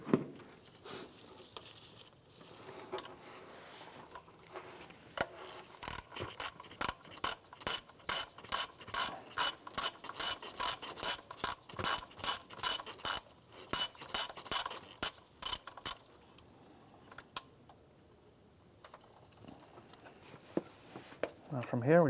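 A ratchet loosens a 10 millimeter fastener on an Acura MDX ignition coil, clicking in a quick rhythmic run in the middle, with faint talk before and after.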